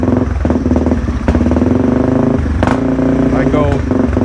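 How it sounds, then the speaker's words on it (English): A Yamaha TTR225 dirt bike engine idling roughly and bogging down when the throttle opens, close and loud, with uneven chugging and brief revs, while a person talks over it. "But any throttle and she bogs down."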